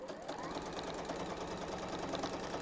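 A home sewing machine stitching a quarter-inch seam in quilting fabric, its steady rapid mechanical whir running evenly and close throughout, with no voices.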